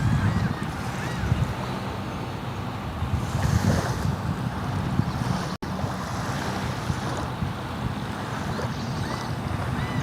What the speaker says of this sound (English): Y'all can still hear the birds and waves in the background, but not overpowering, I hope.